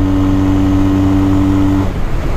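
A Johnny Pag motorcycle engine revs loud and close with a steady droning tone that holds for under two seconds, then breaks off into rougher rumbling mechanical noise.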